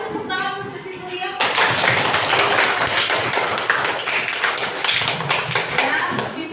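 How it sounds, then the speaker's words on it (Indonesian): Schoolchildren in an elementary classroom break into a burst of rhythmic group clapping after a short stretch of teacher's talk, the dense claps continuing steadily to the end, near and fairly loud. "kasih tepuk tangan untuk si Surya"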